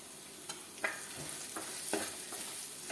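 Coriander and turmeric powder sautéing in a pan, a faint low sizzle punctuated by several quick scraping stirs at irregular intervals, close but quiet, with no voices.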